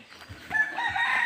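Chickens cluck and a rooster crows at close range on a backyard farm with brooding hens, a short burst of fowl calls rising into a sustained crow.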